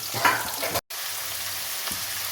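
Onions frying with whole cumin, dried red chillies and bay leaf in a pan, a dense close sizzle with a stirring scrape near the start and a brief dropout before the frying resumes.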